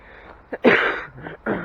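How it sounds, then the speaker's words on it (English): A smoker with allergies gives a few short, rough coughs close by, separated by brief pauses, with one stronger burst in the middle. "I've been having quite a cough again."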